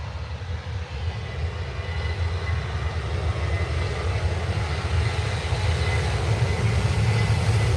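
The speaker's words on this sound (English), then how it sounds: "Noisy engines of a 737 MAX." Boeing 737 MAX jet engines roar steadily and loudly up close at an airport, a constant deep rumble with a broad rushing hiss and no letup.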